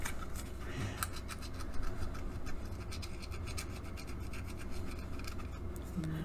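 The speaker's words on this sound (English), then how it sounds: "So I'm just going to use my fingernail because I have fingernails. Okay, we're scratching." A fingernail scratches the foil coating off a scratch-off planner card, a close, steady, dry rasping that continues throughout with small bursts of emphasis, alone without talk.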